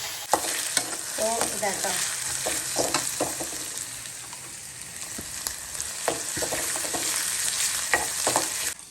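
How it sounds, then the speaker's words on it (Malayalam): Crushed onion and garlic hit hot oil with popped mustard seeds, giving a loud, close, continuous sizzle with crackles and stirring clicks; a voice briefly says a word. "കടുക് പൊട്ടിട്ടോ ഈ ചതച്ച് വെച്ചത് ഇട്ട് കൊടുക്കാം."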